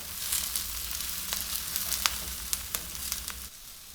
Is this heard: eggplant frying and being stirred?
yes